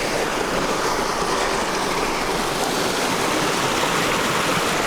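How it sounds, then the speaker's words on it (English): A rushing stream with a small waterfall pours steadily on a hiking trail near Santa Barbara, a loud, even, continuous wash of water with no voices. "there's a little bit of more of a waterfall"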